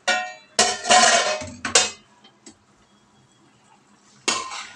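Metal lid set onto a curry pot in a home kitchen: a sharp clang and rattle, a second knock shortly after, then quiet before another clatter near the end.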